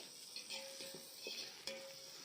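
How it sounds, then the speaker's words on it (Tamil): Onions sautéing in a pan with a little salt, a soft steady sizzle broken by several scraping stirs of a utensil against the pan, close and fairly quiet, with no voices. "சேர்த்துட்டு நல்லா இந்த மாதிரி மிக்ஸ் பண்ணி விட்டுட்டே இருங்க, இல்லைன்னா அடி பிடிச்சிரும்"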